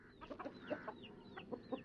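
Vanaraja and Gramapriya chickens on a rural Indian poultry farm cluck close by in quick, repeated bursts, with no other sounds over them.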